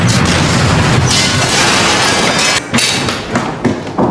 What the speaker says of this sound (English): Suddenly, a loud explosion came from outside the window